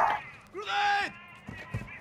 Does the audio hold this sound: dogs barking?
yes